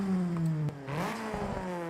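A race car engine with a race turbo and race exhaust in Forza Horizon 5 revs with a steady drone, drops off, then climbs again in a rising, raspy sweep.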